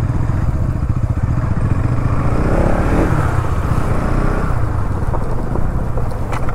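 Motorcycles on a weekend group ride to Somasila roar loudly and steadily close by, with a continuous engine drone and road rumble throughout.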